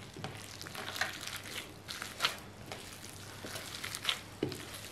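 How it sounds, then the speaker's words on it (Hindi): Chicken mince being kneaded by hand with a raw unbeaten egg for chapli kabab, giving soft wet squelching and slapping pulses at a steady, close rhythm with no talk. "अब इस अंडे को भी अच्छी तरह से मिक्स करना है।"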